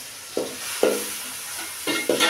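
Two medium onions sizzle in hot oil in a pan while being stirred, giving a steady frying hiss broken by four short scraping strokes of a spoon.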